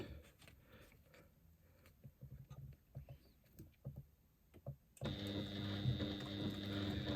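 A sewing machine stitches along the strap of a lambda weave bag. Quiet handling clicks come first, then a steady, close mechanical whirr of stitching runs through the rest.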